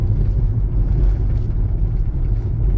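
Low, steady road rumble from inside a moving Kia EV6 on 19-inch wheels, with bumpy thuds as the tires roll over rough, cratered pavement.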